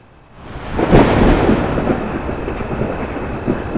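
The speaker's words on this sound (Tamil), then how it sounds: "இடி மின்னலுமா இருக்கு? மழை வருமா?" A loud, rolling thunderclap builds quickly from near silence and rumbles on for several seconds, with a faint hiss of rain beneath and no talk.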